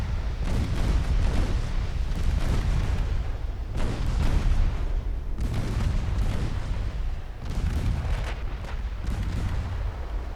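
Warship main guns boom in repeated heavy salvos during a naval battle in Ultimate Admiral: Dreadnoughts, loud and continuous, with rumbling blasts rolling into each other and brief gaps between volleys.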